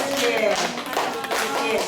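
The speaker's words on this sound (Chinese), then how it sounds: "来，我们再次的来掌声欢迎我们的王老师。" Audience clapping to welcome a teacher at an Amis reed-broom-making class, a brief patter of applause in a room with voices talking over it.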